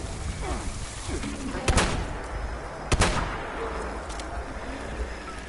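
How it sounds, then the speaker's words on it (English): A grenade going off in the game Fallout 76, with two sharp, loud blasts about a second apart standing out over a dense, rumbling game backdrop. "Why did my grenade go off?"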